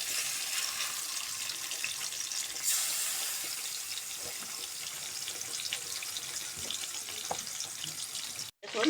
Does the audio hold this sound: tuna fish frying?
yes